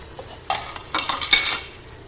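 Green chilli, onion, garlic and tomato with spice powder sautéing in a pan, a soft hiss with a few brisk spatula scrapes and a light metallic clink, close and brief, no voices.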